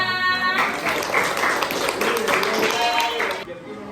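Students in a classroom break into dense applause lasting about three seconds, with a voice briefly heard as it begins and the clapping cutting off abruptly.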